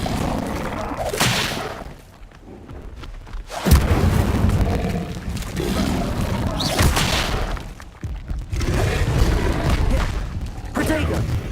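Incendio fire spell in the video game Hogwarts Legacy, with booming explosive bursts, whooshes and crackling impacts repeating across the scene, loud and mixed with a spoken voice.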